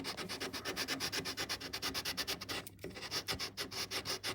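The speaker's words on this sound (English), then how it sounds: "Just a bit of dowel with a bit of 120 sandpaper stuck to it." 120-grit sandpaper wrapped on a wooden dowel is worked back and forth while shaping a guitar neck, giving a quick, even rhythm of close scratchy rasping strokes with one brief pause, and no voices.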